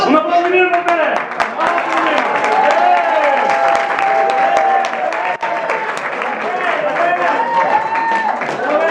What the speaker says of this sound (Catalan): Un aplaudiment per Pere!